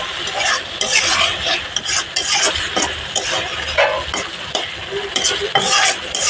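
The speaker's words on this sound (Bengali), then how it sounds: "তো এখন আমি একটু বেগুন অ্যাড করবো।" Eggplant is stirred into baim fish curry frying in a pan, with a steady sizzle and repeated scraping and clattering strokes of the spoon, close and loud, with no talking.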